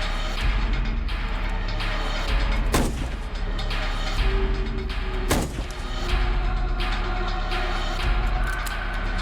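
Rifle gunfire in the survival horror game SIGNALIS, with two sharp loud shots about three seconds apart over a dense, rumbling game soundscape and music.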